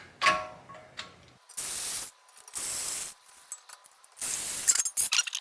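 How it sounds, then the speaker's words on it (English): Three bursts of hissing, whirring power-tool rotation as T30 Torx bolts are backed out of a brake shield on a Volkswagen/Audi MQB-platform car during wheel bearing work, each burst close and loud, separated by softer ratcheting clicks and handling noise. "there's 3 T30 bolts. And so we're just gonna pop them off"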